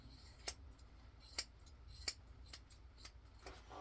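Scissors snip a poodle's hair, trimming it along a line near the ear. About six quiet, crisp snips come at uneven intervals, close to the ear, against a faint background.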